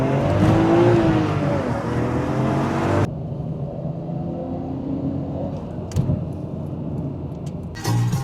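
A Nissan Skyline R34 GT-R V-Spec pulls away in Japan, its engine loud and close with a rising rev for the first three seconds, then settling into a steadier drone with a couple of brief clicks near the end.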